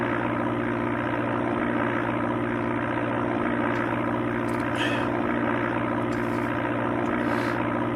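A propeller airplane engine drones in Amiga Flight Simulator II on a flight out of Osaka, Japan, as a steady, even hum with no voices.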